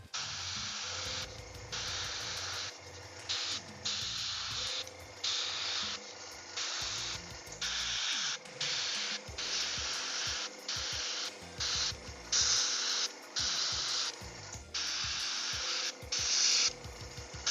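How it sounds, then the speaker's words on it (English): Paint is sprayed from close range onto a Guild Ball Morticians miniature, covering most of the model including the underside, as a string of short hissing bursts separated by brief gaps, with no talking. "this is going to be sprayed on the majority of the model, including the underside"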